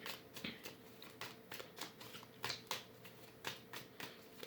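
Tarot cards being shuffled and drawn, heard as a quiet run of crisp, repeated riffling flicks and snaps at a steady, slightly uneven rhythm, close by and alone with no talk.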